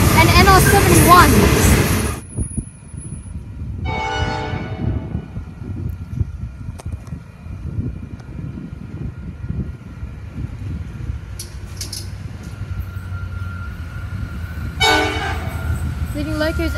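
An Australian freight train led by an NR-class locomotive, followed by an AN and a second NR locomotive, opens with a loud horn blast, then passes as a steady rumbling roll with further distant horn calls.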